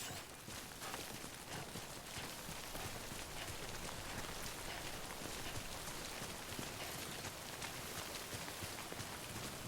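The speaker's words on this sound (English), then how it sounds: "Don't stay out in the rain any longer than you have to." Steady rain falls in the video game Death Stranding, a dense, even hiss of drops pattering on surfaces throughout, faint and with no voices.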